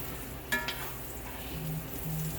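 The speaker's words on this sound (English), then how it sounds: "Smells like it's frying good" Soft, steady sizzling of eggplant frying in a pan, with a couple of light clinks early on and no talking.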